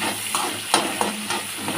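Onions sizzle with cumin in a pan while greens are cooked, giving a continuous close frying hiss broken by a few soft scrapes and clicks of a stirring spoon.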